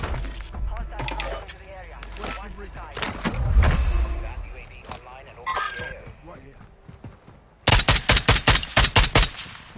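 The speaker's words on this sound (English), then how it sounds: "I'm getting shot from behind. I'm literally getting shredded from behind." Warzone 2 gunfire: scattered shots and bursts under game noise and talk, then a loud, close rapid burst of about eight evenly spaced shots near the end.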